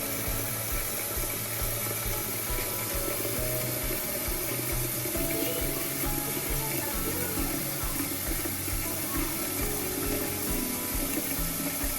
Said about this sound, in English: So here I am pouring the water into the pot.